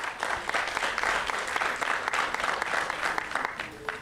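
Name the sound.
audience applause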